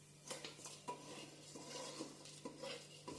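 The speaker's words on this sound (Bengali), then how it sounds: "ক্রমাগত নেড়ে আমি লো ফ্লেমে ভালো করে ভেজে নিচ্ছি" Rice is stirred and fried over a low flame for basanti pulao, with a spoon scraping and clinking against the metal pan every few moments above a soft, faint sizzle.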